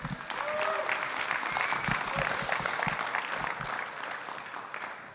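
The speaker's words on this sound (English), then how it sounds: "Get one more round of applause for Nick." Audience applause for a speaker at a conference event, a sustained steady round of clapping from a large crowd that holds at full strength and then begins to taper near the end, with no talk over it.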